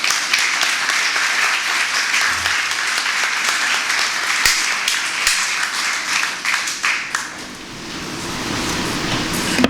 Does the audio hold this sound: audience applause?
yes